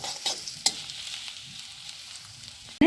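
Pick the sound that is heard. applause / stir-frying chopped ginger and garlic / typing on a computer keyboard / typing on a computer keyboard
stir-frying chopped ginger and garlic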